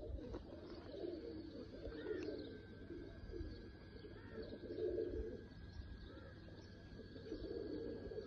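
Oman Teddy pigeons coo in repeated low, rolling phrases close by, with soft chirps and faint background hum throughout and no talking.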